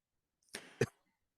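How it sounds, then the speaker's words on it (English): Two quick, sharp coughs close to the microphone, the second stronger, followed by silence. "Oh, you're coughing?"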